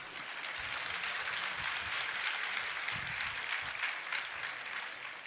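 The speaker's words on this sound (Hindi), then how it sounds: "धीरे धीरे तालियां बज रही है।" Soft, scattered clapping from an audience at a spiritual discourse in Jabalpur, fairly distant and steady, with a faint voice murmuring low underneath.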